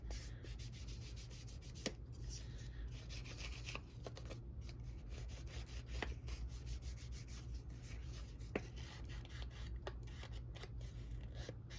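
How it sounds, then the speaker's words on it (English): Ink being applied to a paper envelope, heard as soft, repeated rubbing and scuffing strokes with occasional light taps, quiet and close, without speech. "So I'm going to go ahead and ink this envelope."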